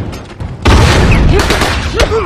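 A bomb goes off in The Last of Us multiplayer on the Financial Plaza map: a sudden, loud, rumbling blast that hits and stays heavy to the end, with brief voice fragments over it.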